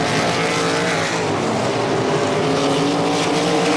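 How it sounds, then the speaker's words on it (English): 360 sprint cars race at Ohsweken Speedway, a dirt track, in a loud, continuous roar of engines at full throttle that sustains without a break and stays close and dense, with no talk. "Shane Ross is second race in a sprint car, doing a good job holding off Mikey Kretschka and Scott Kruder"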